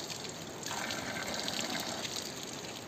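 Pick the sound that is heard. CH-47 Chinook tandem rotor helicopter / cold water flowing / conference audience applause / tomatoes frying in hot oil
cold water flowing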